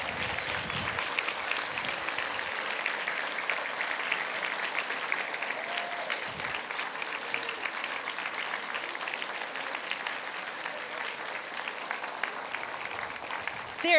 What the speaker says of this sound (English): if everyone else will stand and give our moms a round of applause